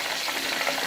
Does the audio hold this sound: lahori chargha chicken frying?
yes